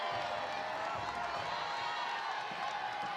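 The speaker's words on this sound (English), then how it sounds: "Crowd getting into it." A softball championship crowd at the Florida Gators versus Mercer Bears game keeps up a steady, dense wall of cheering and noise, heard from a distance without pause.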